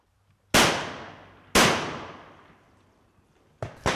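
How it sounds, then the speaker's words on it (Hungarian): Shotgun blasts from hunters shooting cormorants at dusk, two loud close reports with long ringing decay, followed by a further sharp burst at the end. "Másfél órát kell várni, mire az első lövés eldördülhet."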